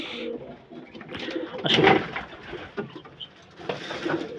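Pigeons coo in a small backyard coop kept alongside chickens, several soft throaty calls rising and falling close by, with a brief spoken word in between.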